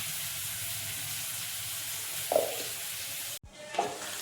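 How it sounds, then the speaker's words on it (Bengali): Onions fry in oil with a steady sizzle, broken by a brief clink of a utensil and a short cut before the sizzling resumes, with no voices. "পেঁয়াজটা ভাজা হয়ে যাক"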